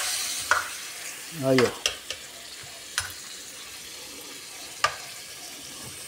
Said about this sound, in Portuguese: Aí é só mexer aqui agora. É peixe de rio não tem problema mexer não